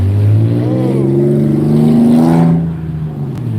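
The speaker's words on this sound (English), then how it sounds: "You buy that Infinity, you trick it out so it makes all that noise." A loud, modified Infiniti car revs on a city street, its engine climbing in pitch and then dropping away as it passes close by.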